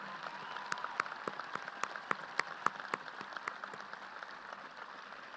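Sparse applause at a 2023 Shawnee High School graduation ceremony for graduating students and armed services members, heard as scattered, fairly distant claps over a soft, steady room wash that thins out toward the end.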